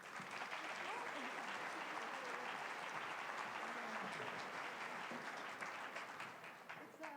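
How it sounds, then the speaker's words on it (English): An audience at a summit applauds steadily as a speaker is welcomed onto the stage, a dense, even wash of clapping that holds for several seconds before easing off slightly. "I ask that you give her a warm round of applause"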